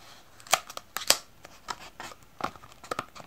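Samsung Galaxy Buds Live earbuds are tugged out of their box packaging: close, intermittent crinkling paper and sharp plastic clicks and scrapes in irregular bursts.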